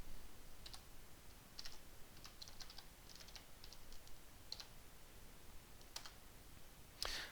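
Faint, sparse keystrokes on a computer keyboard as a password is entered on a Windows Server machine, the soft clicks spaced out against a steady background hiss.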